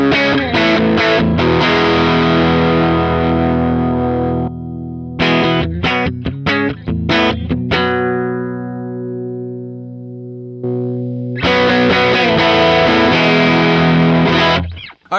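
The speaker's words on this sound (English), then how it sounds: "you hear the difference between overdrive and clean tone" An electric guitar played through an overdrive effect, with distorted strummed chords and sustained ringing notes. Bursts of loud playing are separated by a long decaying chord and a short silence.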